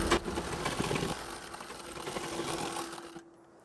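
A sewing machine runs steadily while stitching a folded hem along the edge of a Marathi-style saree, then stops abruptly near the end.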